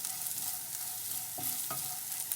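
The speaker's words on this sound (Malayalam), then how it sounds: "അപ്പോൾ അത് ഒരല്പം വെളിച്ചെണ്ണ കൂടെ ഒഴിച്ച് നന്നായിട്ട് ഒന്ന് വഴറ്റി എടുത്തു" Chopped mango and ginger sauté in coconut oil for a Kerala-style pickle. A continuous close sizzle runs throughout, punctuated by two brief scraping stirs of a spoon in the pan.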